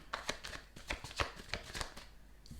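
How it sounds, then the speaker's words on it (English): Tarot cards are shuffled close up during a reading, giving a soft, steady run of papery riffles and taps that repeat rhythmically for a few seconds. "So I'm just going to shuffle. I'm gonna get some cards out."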